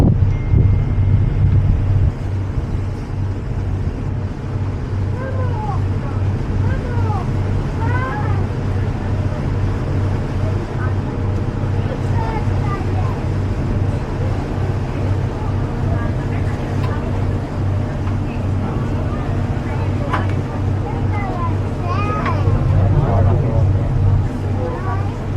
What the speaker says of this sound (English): Passing one of the tugboats here.